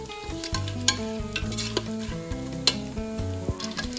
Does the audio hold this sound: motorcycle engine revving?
no